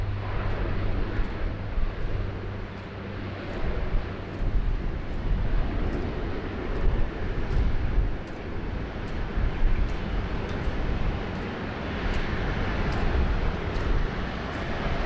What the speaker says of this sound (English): The two Virgin 73s taxiing out for departure, as well as the Rex 73 there